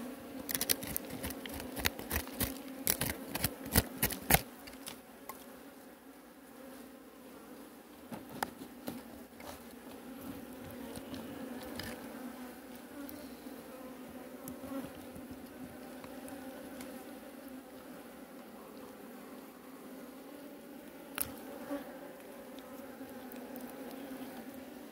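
Honey bees buzz around an opened hive as the cover is removed, a steady insect drone running throughout with sharp clicks and taps of hive handling clustered at the start.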